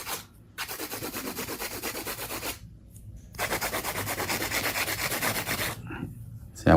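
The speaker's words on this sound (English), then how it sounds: "Support it while you're doing hand filing." Steady hand filing of a fingernail during a mid-length ombre nail-art job, heard as two long bursts of close, dry rasping strokes separated by short pauses.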